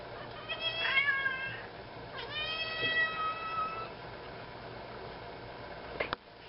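A hungry house cat meows twice near the microphone, two drawn-out rising-and-falling cries about a second apart, followed by a brief click, over a steady low hum of room noise.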